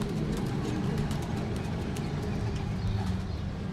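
A teddy breeder pigeon at a bird market gives low, soft cooing under a constant hum of background bustle and distant traffic, with occasional faint clicks.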